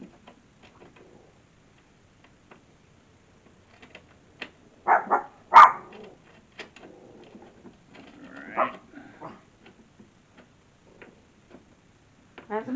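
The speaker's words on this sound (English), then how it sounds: "He's only like half trying to bark or growl." An old dog gives a few short, half-hearted gruff barks and growls at close range in a mostly quiet space, scattered with faint ticking and small handling noises, while a voice briefly speaks.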